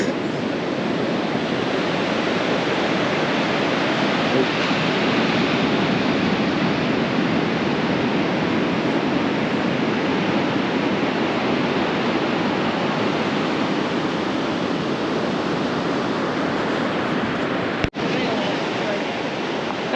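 Steady, dense roar of Pacific surf on a wilderness beach on the Olympic coast, constant and loud throughout with no clear breaks.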